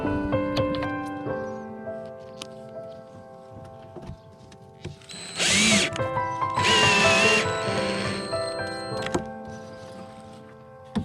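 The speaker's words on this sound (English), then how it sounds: "I'm gonna drill some pilot holes and put some screws in here" Power drill boring pilot holes in wood for a DIY chicken feeder, two short bursts of whining motor noise in close succession, near and fairly loud, set between scattered tapping and handling sounds.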